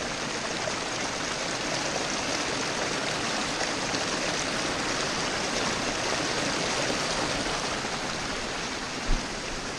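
A mountain stream flows steadily and close by, where a water bag is being filled, its broad even rush continuing throughout with a single faint knock near the end and no voices.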